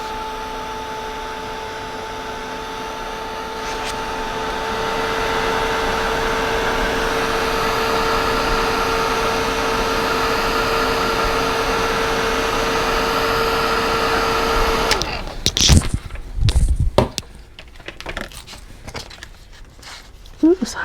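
A heat tool blows hot air onto planner stickers to loosen them, making a steady, loud whirring drone for about fifteen seconds. It then cuts off, leaving scattered clattering and handling noises.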